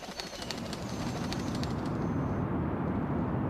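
Pigeons cooing in soft repeated calls, close by over a steady dense background wash that continues through the whole stretch, with no voices present.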